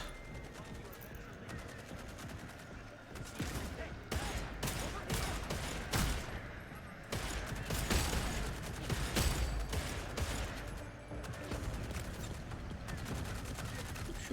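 Machine-gun fire rattles in Redfall, quiet rapid volleys that grow busier after a few seconds and keep going, with voices talking over the shooting.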